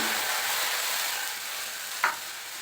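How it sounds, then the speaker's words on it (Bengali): A cup of water goes into a hot wok to start a sugar syrup, giving a quiet, steady sizzling hiss with one brief sharper spit near the end. "আবারও কড়াই বসিয়ে নিলাম বসিয়ে মেজারিং কাপে এক কাপ জল দিয়ে দিচ্ছি"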